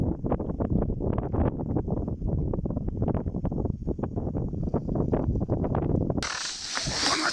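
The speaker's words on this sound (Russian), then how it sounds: "Так что сразу прошу прощения за ветер в кадре" Strong wind buffets the microphone over a frozen reservoir during ice fishing in a snowstorm, a loud continuous roaring rumble that gusts unevenly, then drops off abruptly near the end.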